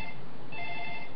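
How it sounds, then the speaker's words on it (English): A mobile phone ringtone sounds as a steady electronic tone pattern, close and fairly loud, and is heard alone. "my phone's ringing, I'm sure you can hear that"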